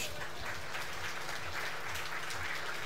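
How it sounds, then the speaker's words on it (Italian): A crowd at a sustainability conference in Rome applauds, a steady, even wash of clapping heard from some distance at low level with no speech. "Applauso."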